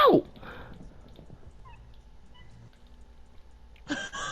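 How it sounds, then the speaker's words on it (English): Cats in the video game Minecraft give a short, sharp meow at the start, then fall quiet. A second higher meow cuts in near the end. "There's cats following you."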